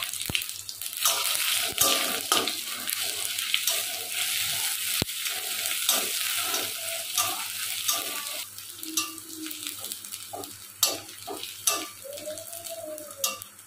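Panch phoron tempering in hot oil with dry red chillies, bay leaf and ginger paste for a vegetable khichuri, a continuous bright sizzle broken by repeated spatula stirs and a few sharper scrapes near the end, with no talking.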